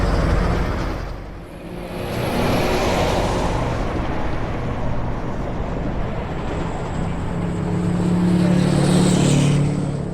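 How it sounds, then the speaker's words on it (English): Cars pass steadily along a road beside a highway work zone, a continuous broadband traffic roar with one swell dying away near the start and heavier passes building toward the end, with no talking. "His office has cars driving by and honking horns"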